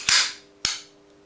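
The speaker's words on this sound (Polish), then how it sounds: "i zrzucamy bolt catchem. Mamy pikę gotową do strzału." Two sharp metallic clacks about half a second apart, close and crisp, as the bolt catch is released on an AGM M4A1 gas blowback airsoft rifle.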